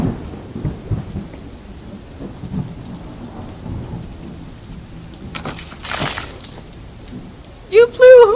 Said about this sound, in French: Il pleut aujourd'hui